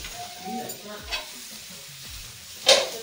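Pakoras fry in hot oil in a home kitchen, giving a soft sizzle broken by a few stirring scrapes and a sharp spatter near the end.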